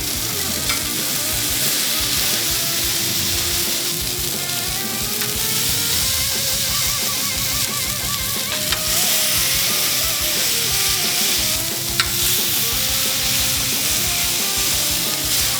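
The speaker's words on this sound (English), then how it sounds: "Then we smash." Smash burgers sizzle loudly and steadily on a Char Griller flat iron griddle, with a constant broadband hiss and occasional scraping of a spatula, with no talking.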